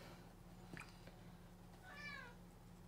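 Juliet the kitten gives one thin, rising meow near the end, quiet and a short way off, after a faint chirp or rustle earlier in a calm indoor space.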